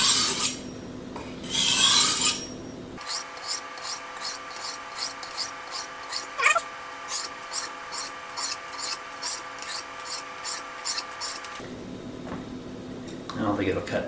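A knife blade is drawn across a wetted DMT DuoSharp 1200-grit diamond sharpener in about twenty quick, even rasping strokes. Talk comes before and after the strokes.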